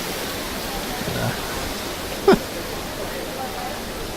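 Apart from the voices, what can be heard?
loud waterfall in video game Final Fantasy XII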